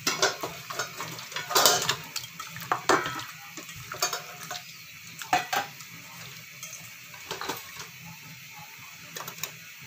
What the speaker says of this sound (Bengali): এখন আমি এগুলোতে মশলা মেখে নেব।